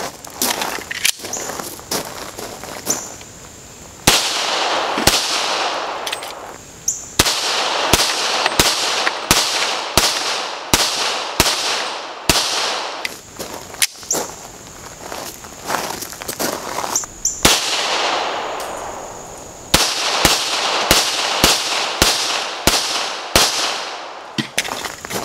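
Dan Wesson 1911 pistol fires in bursts of sharp, loud outdoor shots, several strings of rapid rounds with pauses between, each crack ringing out over a quiet background with insects audible.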